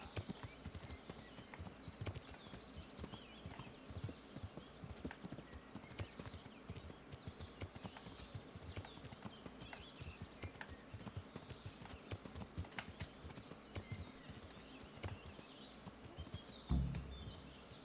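Rapid, steady clip-clop of a roan horse's hooves trotting at an even rhythm in the video game Kingdom Come: Deliverance, fairly quiet, with a brief thump near the end and no talking.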